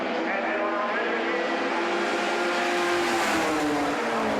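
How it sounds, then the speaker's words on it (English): BMW E30 race cars roar past in a tight pack on a racing circuit, with loud, sustained engine notes shifting in pitch as they go by. "So many race cars in this field."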